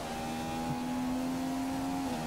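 A Formula One car engine in the F1 2015 video game holds a steady high-pitched whine at about 15,000 RPM, a continuous tonal drone that shifts slightly near the end, with no talking.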